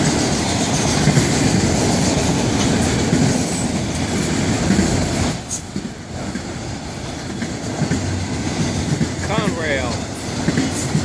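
An FEC freight train rolls past close by, its cars clacking and rumbling loudly and continuously, with faint wheel squeal near the end and a voice speaking over the noise.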